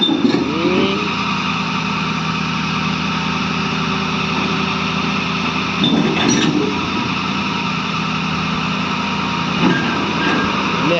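A Tata machine is loaded onto a truck while its engine runs with a steady, close droning idle throughout, broken by a few brief clanks and rattles around the middle, with no voices.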